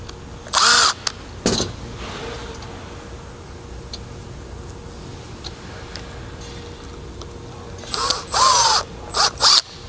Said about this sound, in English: This time I have a power tool.